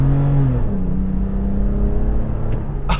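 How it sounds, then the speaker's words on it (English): A 2023 Toyota 4Runner TRD Pro with a 5-speed transmission accelerates hard with wheel spin, its engine note rising then settling into a steady close roar, with a brief higher burst near the end. "There's wheel spin."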